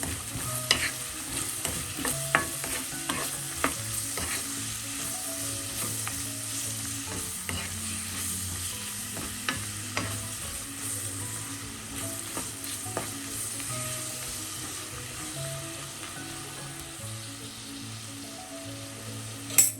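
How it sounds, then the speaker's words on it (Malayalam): Carrots and cabbage with salt for a thoran are stirred in a frying pan: steady scraping strokes and clicks of the spoon over a soft sizzle, with a low tonal background throughout. "ഇതെല്ലാം കൂടെ ഒന്ന് ഇളക്കി"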